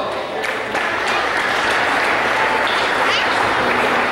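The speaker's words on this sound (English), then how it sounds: "so give yourselves a round of applause." A crowd at a steak fry fundraiser applauds in steady, dense clapping that fills the whole stretch at close range, with some voices mixed in.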